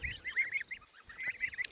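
Domestic geese, a large meat breed raised on a farm, honk repeatedly at close range in a quick series of nasal calls over faint background noise.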